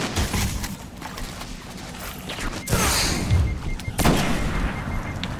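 Sniper rifle shots in the video game Destiny: two sharp, loud cracks with rumbling tails, the second a little over a second after the first, over a busy in-game background.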